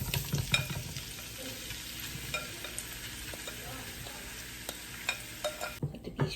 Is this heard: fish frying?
yes